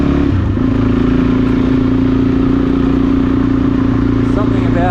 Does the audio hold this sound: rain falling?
no